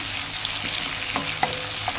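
Chopped onions sizzle steadily in hot oil in a pan, with a few soft scrapes and clinks of stirring breaking through the continuous frying hiss, close and alone.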